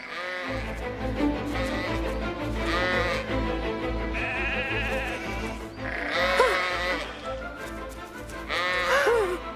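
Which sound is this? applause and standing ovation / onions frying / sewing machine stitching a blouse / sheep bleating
sheep bleating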